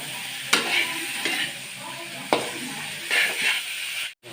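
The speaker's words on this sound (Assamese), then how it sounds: "মাংসটো ভাজিব লাগিব।" Duck meat frying in a pan, with a steady close sizzle and a few sharp scrapes of a spatula as the meat is stirred.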